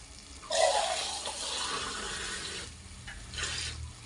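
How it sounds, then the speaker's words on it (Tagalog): Water pours into a cooking pot of meat broth, a steady splashing stream that starts abruptly, runs close and fairly loud, then eases before surging again near the end. "Lagyan ko ng tubig."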